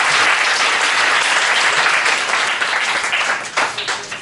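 A concert audience at an Amis music performance in Taiwan applauds with dense, loud, sustained clapping that thins into scattered claps toward the end.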